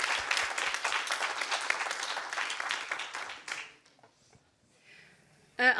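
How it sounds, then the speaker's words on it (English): An audience at a research policy conference applauds a speaker, steady crowd clapping for about three and a half seconds that then fades away, followed by near silence and a brief sound at the end. "can we have a big round of applause for Karin Stroobants"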